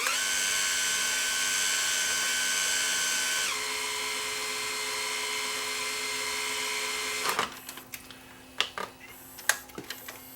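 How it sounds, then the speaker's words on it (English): A Sony EVS7000 video deck rewinds a tape, giving a steady whirring whine that drops in pitch partway through, then stops and gives way to a series of sharp mechanical clicks and clunks. "So we'll rewind this tape."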